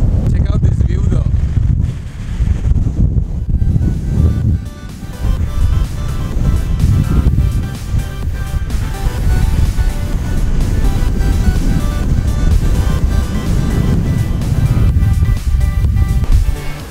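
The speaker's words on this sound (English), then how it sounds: "There's like a crazy wind happening right now." Strong wind buffets the microphone on an open mountain plain at Moon Plains near Nuwara Eliya, Sri Lanka, a loud, continuous low roar with gusty swells throughout.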